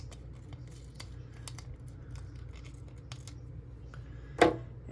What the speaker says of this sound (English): I could cut this one in half,